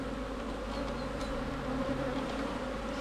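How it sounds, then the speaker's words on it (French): Honeybees in a hive from a month-old split, just opened, give off a dense, steady buzz that stays loud and close the whole time. "je viens d'ouvrir un essaim que j'ai créé il y a pile un mois"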